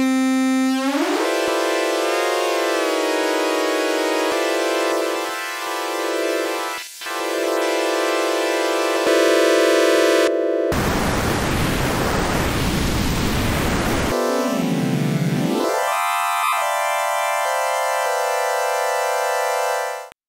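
Simple VCO patch on the Kamioooka soft modular synth: a loud, buzzy sustained oscillator tone that sweeps and shifts timbre, breaks into a harsh burst of noise midway, then returns to a steady drone, with no talking.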